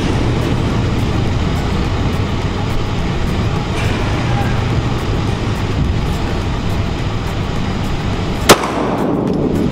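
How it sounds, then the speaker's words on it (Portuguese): A Taurus G3 pistol fires a single loud, sharp shot at outdoor target practice near the end, its crack ringing out briefly over a steady wash of background noise. "Acho que é o último disparo agora."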